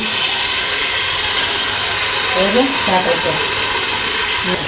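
Fish pieces bubbling in a pot of curry, a steady broad hiss of boiling and steam running throughout with faint clinks and light stirring, while a voice speaks briefly over it.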